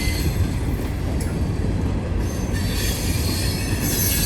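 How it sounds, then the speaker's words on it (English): Wheels of a quarry-bound freight train squeal steadily against the rails at close range, a loud continuous metallic screech over rolling rumble, with no voices. "This train is going to the quarry all the way at the east end of the line at Mount Zion,"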